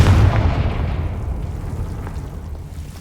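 In Hogwarts Legacy, a Confringo fire spell bursts with a loud, deep boom at the start, then a rumbling tail fades gradually over about three seconds, with no voices.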